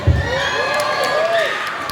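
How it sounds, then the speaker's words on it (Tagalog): Pageant audience in the Philippines cheering, shouting and whooping, a dense crowd roar with high shrill voices rising and falling over two seconds, loud and close. "Wala po ba ang hiyawan dyan?"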